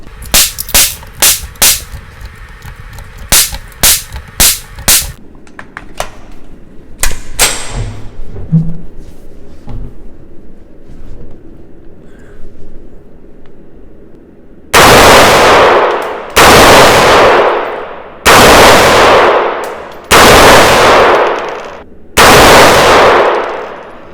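A UK-made T2 rifle in .22 WMR fires a quick series of sharp cracks, followed by a quiet pause and then five louder, spaced shots with ringing decay, close and prominent with no talk.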